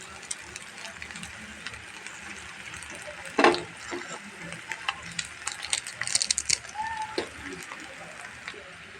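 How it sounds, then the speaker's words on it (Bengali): Noodles and masala spices go into a hot pan and get stirred, giving a low sizzle with scraping and clinks of a utensil against the pan. A sharper clatter comes partway through, with a busy patch of stirring later on. "নুডলসটা ঢেলে দেবো এবং মশলাগুলোও দিয়ে দেবো"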